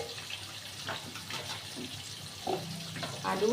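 Potatoes being rinsed in water in a home kitchen: steady running, splashing water with a few sloshes and clatters, louder in bursts near the end.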